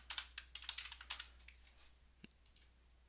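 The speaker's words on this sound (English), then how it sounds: "So I'm going to type a test account," Quiet keystrokes tap on a computer keyboard while an account name is entered in Salesforce, a quick cluster of clicks followed by a few sparse, fainter taps.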